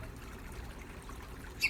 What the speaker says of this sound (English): Under the shade of a strip of trees, there is a stream.